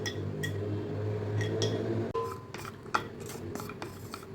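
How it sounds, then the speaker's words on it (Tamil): Cashews sizzling and roasting in hot ghee in a pan while semiya kesari is being cooked, with a steady frying hiss under light scraping and clinks of a spoon stirring against the pan. "இப்போ முந்திரியை சேர்த்து வறுத்துக்கலாம்"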